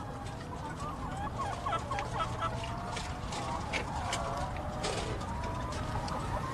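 Farm chickens cluck and call in a crowded poultry setting, a busy layered chorus of bird calls over constant low background noise, moderately loud and unbroken, with faint talk in the mix.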